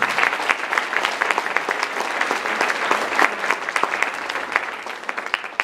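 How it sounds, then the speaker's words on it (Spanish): A church congregation applauds steadily during a service, dense clapping from many hands holding at an even, fairly loud level with no talk over it. "Dele palmas al Señor."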